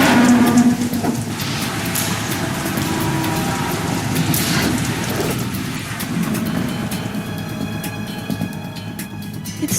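Heavy rain falls in the stealth video game Metal Gear Solid 2, a dense, steady hiss and patter with a low rumbling roar underneath throughout, no voices.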